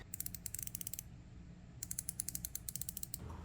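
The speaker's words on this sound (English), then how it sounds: "The ratcheting mechanism is nice and tight." A low-profile flex-head ratcheting wrench clicks in two quick bursts of rapid, crisp ticks with a pause between, close and clear, during a rear spark plug job on a Lexus RX.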